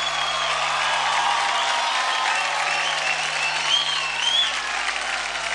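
A television studio audience claps loudly after a child's dance performance on a dance reality show, a steady wall of applause with faint cheering inside it.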